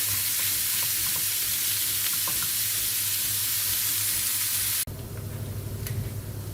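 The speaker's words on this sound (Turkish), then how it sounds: "Kıymamız kavrula dursun." Loud, constant sizzling of minced meat frying in a pan, the hiss dropping and softening abruptly near the end as the heat or lid changes.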